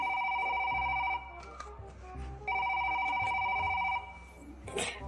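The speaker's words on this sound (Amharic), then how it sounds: "ቦስ ስልክሽ እየጠራ ነው።" Phone ringtone sounding in repeated electronic bursts, two long rings separated by a pause, close and clear, with brief talk in between and a short burst at the end.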